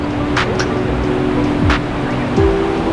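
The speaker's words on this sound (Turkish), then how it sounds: "Gördüğünüz gibi küçük bir şelalesi var." Small Sait Abat waterfall in Kestel, Bursa, gives a steady broadband rush of falling water with a low engine-like hum running beneath it.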